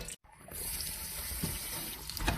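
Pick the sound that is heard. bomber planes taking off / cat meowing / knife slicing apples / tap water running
tap water running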